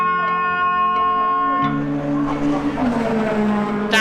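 Race cars launch off the grid at Brands Hatch: a chorus of engines revving together, climbing in pitch and then surging into a dense, loud roar as the field pulls away. A faint commentary voice runs beneath it.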